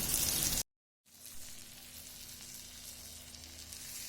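Pomfret fish with garlic frying on a hot tawa over a low flame gives a steady, close sizzle, cut by a brief silence before the crackling resumes evenly.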